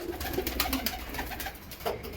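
A paired red-tailed and black-tailed pigeon, kept as foster parents, coo close by in their loft, a brief low burbling mixed with soft rustling and clicks.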